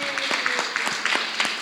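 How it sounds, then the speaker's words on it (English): Conference audience applauding as volunteers come up to the stage, a brief burst of scattered, uneven claps in a hall. "give them a round of applause as they come up"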